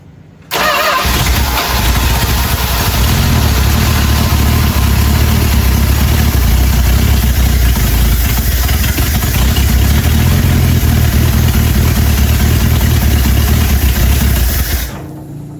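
An old 1978 Dodge D150 pickup engine, neglected for twenty years, cranks briefly then catches and runs steadily with a loud, close, continuous rumble before cutting off near the end.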